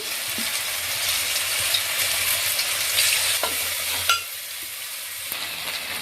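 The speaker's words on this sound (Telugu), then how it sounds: "ఈ పన్నీర్ని కొంచెం బ్రౌన్ కలర్ వచ్చే వరకు ఫ్రై చేసుకుందామండి" Paneer fries in hot oil in a kadai, a loud, continuous crackling sizzle with occasional spatula scrapes, the hiss briefly thinning near the end.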